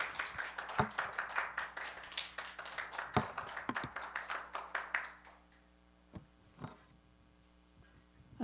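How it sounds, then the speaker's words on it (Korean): Church congregation welcoming a speaker with a round of applause, rhythmic clapping over a steady low electrical hum that stops abruptly partway through, leaving a few isolated claps against the hum. "큰 박수로 맞아주시면 감사하겠습니다."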